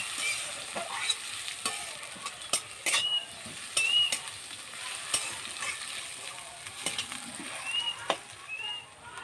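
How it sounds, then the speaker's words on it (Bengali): Chopped onions frying in a pan with a soft, continuous sizzle, broken by repeated sharp clicks and scrapes of a spatula against the metal, close and fairly quiet, with no talking. "পেঁয়াজ কুচি, পেঁয়াজটা ভালো করে ভেজে নেব।"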